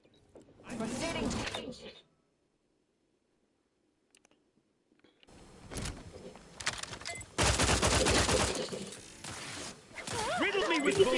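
Bursts of video game gunfire, rapid automatic fire and clicking mechanisms, come in two loud stretches separated by near silence, with a voice talking over parts of it.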